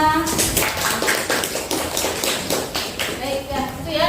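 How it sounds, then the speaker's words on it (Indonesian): Schoolchildren in a science class applaud together, a loud dense burst of clapping that holds steady for several seconds, with voices mixed in. "Beri tepuk tangannya."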